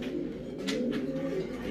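Domestic pigeons in a Valencian pigeon fancier's loft coo in a low, steady murmur, with a soft continuous cooing hum throughout and no other sounds standing out.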